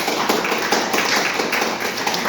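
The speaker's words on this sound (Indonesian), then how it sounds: "Kita berikan aplaus semuanya." Steady applause from a class or seminar audience, a dense patter of many hands clapping continuously for about two seconds at moderate loudness with no talk.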